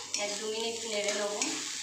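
Grated ginger and garlic frying in a pan as they are stirred, a dense, steady close sizzle with a faint scrape of the utensil, no talking.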